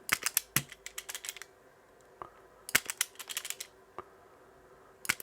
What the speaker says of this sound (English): I'm just going to strip those out and then cut them and then solder them on